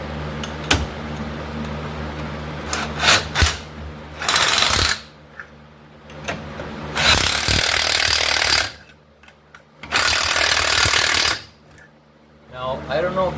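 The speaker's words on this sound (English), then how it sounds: "that tone tells me I've sunk the lug nuts down" An impact wrench tightens lug nuts on a 2008 Dodge Charger R/T wheel, firing in loud sustained bursts of hammering separated by pauses, with short clanks and handling noise between runs.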